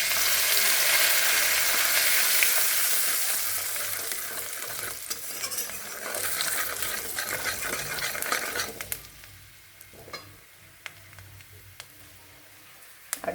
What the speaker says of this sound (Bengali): সেই মাছ ভাজা তেলে আমি ফোড়ন দিয়ে দেব